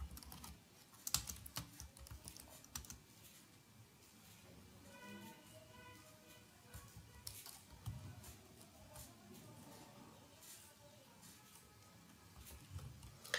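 Typing on a computer keyboard, a steady patter of quiet keystrokes with irregular louder taps, fairly close and continuing throughout while someone speaks softly at times.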